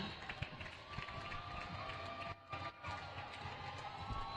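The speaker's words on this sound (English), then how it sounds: "It's been non-stop cheering for the last 5 minutes" A roller derby bout fills an indoor arena with a loud, continuous crowd roar of cheering and shouting, broad and sustained throughout, dipping briefly for a moment before surging back.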